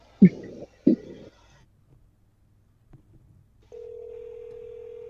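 Two short tones blip on a phone line, followed after a brief pause by a steady, continuous dial tone that holds clearly and evenly until the end.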